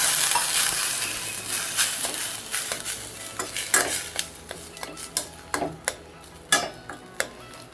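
Cooled boiled milk poured onto bread fried in ghee for bread halwa, giving a soft steady sizzle broken by scattered sharp clicks and stirring taps that grow more frequent toward the end, close by with no voices.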